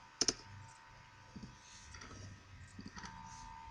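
A few computer keyboard keystrokes, a Ctrl+F search typed during bookkeeping data entry: scattered crisp clicks, one close pair early, then sparse taps over a faint room hum.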